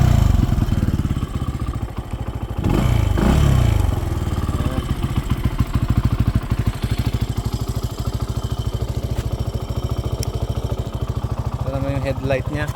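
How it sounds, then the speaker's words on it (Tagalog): A Benelli TNT 135 motorcycle with a stock, quiet exhaust idles steady and close with a low, even rumble and a brief mild rev. A voice talks briefly over it. "Ito yung exhaust niya. Sound check natin."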